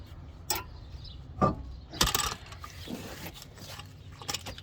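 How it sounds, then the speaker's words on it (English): A 19mm socket on a ratchet loosens the wheel bolts of a Toyota ST180 during a rear big brake conversion, giving a few separate metallic clicks and clunks with quiet pauses between them. "Get a 19mm socket. Take off your wheel bolts."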